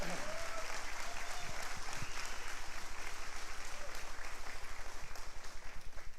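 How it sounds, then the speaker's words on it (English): An audience at a safety recognition event claps steadily for the 32 finalists, a dense, even round of applause that holds at the same level throughout. "big round of applause for our 32 finalists"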